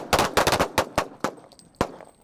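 Rapid gunshots at a shooting range, a quick close burst of several loud cracks followed by a few spaced single shots, each sharp and echoing briefly.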